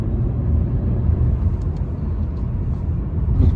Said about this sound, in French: Alors le véhicule a du mal à monter, c'est normal, on est en sous-régime, on est à un peu plus de 1000 tours minute.